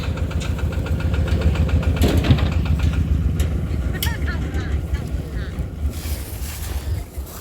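A tractor engine rumbles steadily and loudly nearby during a rice harvest, its low chugging drone continuing under wind noise and a few spoken words.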